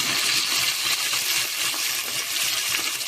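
Okra and cucumber pieces dropped into hot oil for sambar, giving a steady, loud broadband sizzle that continues evenly throughout without speech.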